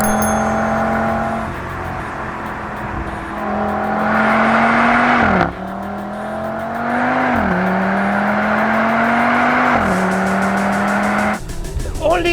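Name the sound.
Audi RS 3 car driven on a racetrack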